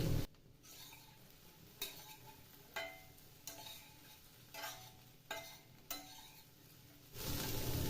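Capsicum pieces simmering in their own juices in a covered pan, stirred with a spatula; soft, low sizzling between a series of distinct scraping strokes, quiet and close, with a louder rush at the start and end.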